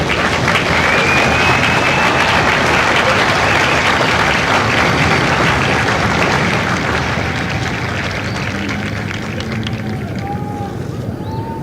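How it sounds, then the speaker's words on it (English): Loud, sustained applause from a large audience at a Marine Corps recruit graduation ceremony for Kilo Company at MCRD San Diego, clapping steady throughout and easing slightly toward the end. "please join me in a round of applause for the company staff of Company K."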